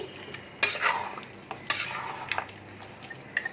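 Yogurt being stirred into a mutton curry in a pan over low flame, heard as scraping and clacking spoon strokes against the pan over a soft sizzle, close and fairly quiet.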